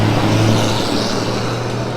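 Studebaker pickup truck at a hill climb festival in Newport, Indiana, its engine giving a loud, close, steady rumble with a low droning hum that holds throughout.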